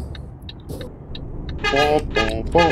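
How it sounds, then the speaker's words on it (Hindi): A video-game Indian truck horn honks in several short blasts over a low engine rumble, with a few faint clicks beforehand, while driving offroad. "हॉर्न भी अजीब तरह का पोपो वाला नहीं है इसका"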